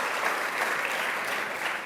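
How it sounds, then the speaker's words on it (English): An audience at a New York governor's event on Long Island coastline restoration applauds a power authority official, giving dense, even clapping at moderate distance with no talk. "Let's give him a round of applause"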